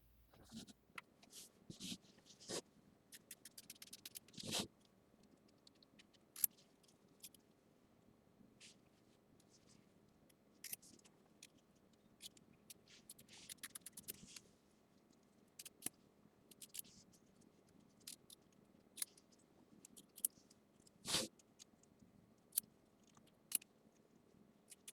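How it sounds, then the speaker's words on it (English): Scissors trim a Christmas quilt block in quiet, scattered snips and fabric rustles, sharp faint clicks spaced irregularly across the stretch with near silence between them. "And now we trim this out."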